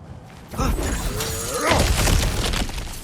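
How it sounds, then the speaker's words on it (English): Objects shatter and break apart in God of War Ragnarök on PS5, a loud crash of splintering debris followed by a sustained rumble of falling pieces, with faint voice-like sounds blending in. "Ah, back to smashing through things for fun and profit."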